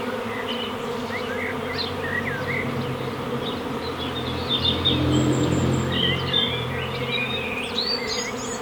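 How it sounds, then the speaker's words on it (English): A honeybee swarm hangs in a willow tree, producing a dense, continuous buzzing drone with individual bees zipping past, steady and close throughout with occasional bird calls in the distance. "we're going now to collect the swarm from the tree"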